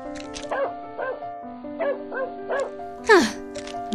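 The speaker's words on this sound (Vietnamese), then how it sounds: "Mới sáng ra đã sủa inh ỏi, đau hết cả đầu." An animated dog in a cartoon barks repeatedly in short, sharp yaps, about half a dozen spaced barks followed by a higher whining yelp at the end, close and clear with no speech over them.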